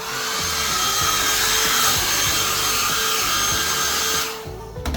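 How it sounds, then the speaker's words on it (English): A hotel room hairdryer blows with a steady, broad whooshing roar for several seconds, then cuts off abruptly near the end. "Should we try the flow of the hairdryer?"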